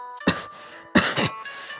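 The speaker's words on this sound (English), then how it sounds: "coughing." Two rough, throaty coughs a moment apart, close up, each trailing into a strained breath.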